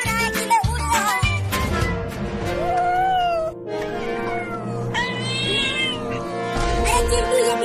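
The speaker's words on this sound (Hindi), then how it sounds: "ये बिल्ली इतना बोल क्यों रही है? वो भी हमारे पास आकर।" A cartoon cat meows loudly and repeatedly, its drawn-out, wailing, caterwaul-like cries following one another in quick succession close up.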